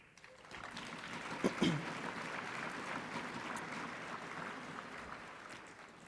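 An audience at an education support professionals conference opening session breaks into steady, moderately distant applause that swells in and holds, with a brief louder vocal burst early on.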